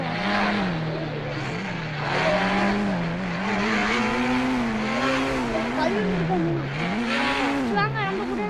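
A car being driven, its engine droning loudly with a pitch that rises and falls as it revs and eases off, continuous throughout with road noise layered on top.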